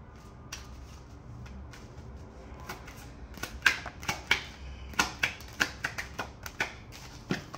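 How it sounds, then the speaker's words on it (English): Tarot cards being shuffled and pulled, a run of crisp flicking snaps and taps that starts sparse and quickens into a rapid series, close and fairly quiet. "let me pull some career cards"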